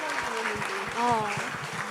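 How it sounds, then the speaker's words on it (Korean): Audience applause at a school parents' education meeting in a hall, steady clapping with voices and speech-like tones mixed in over the short stretch. "다시 한번 박수 한번 크게 드릴까요?"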